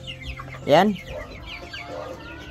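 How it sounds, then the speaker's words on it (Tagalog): Young two-month-old rooster stags give a brief, loud clucking call with a rising then falling pitch in a backyard pen, standing out over a low background murmur while a voice speaks faintly. "ito yung ating mga separated na mga stag ngayon na 2 months old na"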